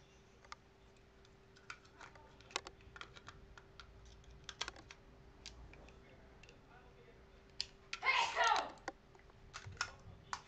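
Typing on a computer keyboard at a desk, quick scattered key clicks close to the microphone with a brief louder burst of rattling keystrokes near the end, faint and otherwise quiet.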